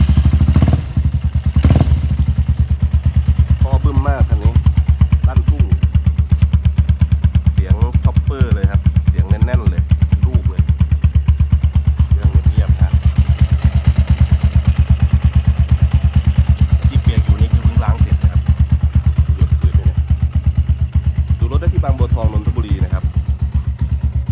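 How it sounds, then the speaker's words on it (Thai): A Keeway 200cc four-stroke motorcycle engine idles close by with a steady, fast, throbbing pulse that runs unbroken throughout. Someone talks over it. "ฟังเสียงเครื่องนะครับเช้า เป็นสี่จังหวัดสตาร์ทมือนะครับ"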